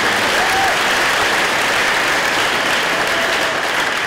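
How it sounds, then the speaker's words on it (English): Steady, dense applause from an audience at a 2015 technical center awards ceremony, loud and continuous with no pauses. "Big round of applause for them."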